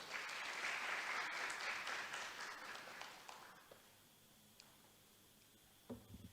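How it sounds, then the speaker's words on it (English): An audience at a public health forum claps in a loud, dense round of applause for a speaker being introduced, holding steady for about three seconds before fading into a quiet room, with a few faint knocks near the end. "Ladies and gentlemen, please a round of applause for Dr."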